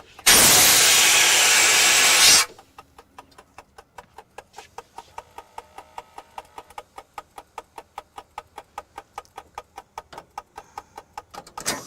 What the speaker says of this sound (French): Essai du robinet d'urgence maintenant.